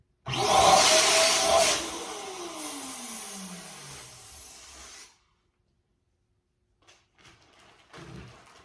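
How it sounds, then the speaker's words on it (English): An electric balloon pump blows air with a loud whirring rush that starts abruptly, winds down as its pitch falls, and cuts off, followed by faint handling noises. "it's obviously blowing pressure and air"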